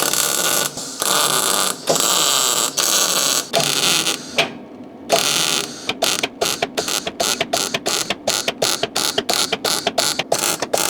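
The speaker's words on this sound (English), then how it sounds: "I can hold the repair panel in the right place, like so, and then tack it in place" Tack welding a repair panel onto the rusted drive shaft tunnel of a Saab 900 Turbo, heard as loud sustained welding bursts that give way to a rapid run of short, sharp crackling tacks, close up with no talk.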